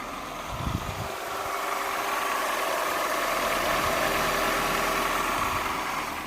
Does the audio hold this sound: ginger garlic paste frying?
no